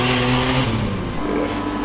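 A VR V6 turbo Commodore ute revs hard through its screamer pipe exhaust, a loud, close engine roar with a falling tone and no talk over it.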